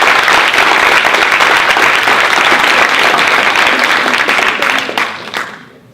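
Audience at the Concours Paul Boncour 2018 introduction bursts into sustained, loud applause that fills the hall with dense clapping, then tapers off and fades out over the last second.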